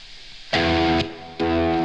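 Electric guitar with a buzzing fuzz tone driven through a boost pedal; two loud, thick distorted chord hits, each sustaining before cutting off, over a faint hiss.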